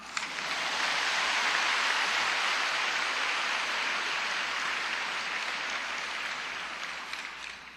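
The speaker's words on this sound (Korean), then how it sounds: "어쨌든 많은 위로의 박수 부탁드립니다" Church audience gives a sustained round of applause for a nervous speaker giving a testimony, a dense, even wash of clapping that swells quickly and slowly fades toward the end.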